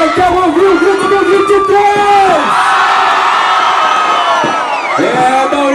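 A large crowd at a political campaign rally in Joaíma, Brazil, shouts and cheers loudly, with rising and falling whoops and yells merging into a dense, continuous roar that swells in the middle and breaks into fresh shouts near the end.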